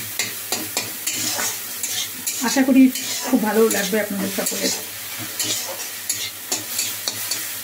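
A snack mixture fries and crackles in a pan while a spoon stirs and scrapes through it, with a voice speaking briefly over the sizzle.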